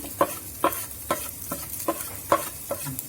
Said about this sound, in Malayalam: എല്ലാം ചേർത്തു ഇതൊന്ന് ഇളക്കുക നന്നായിട്ട് ഇളക്കി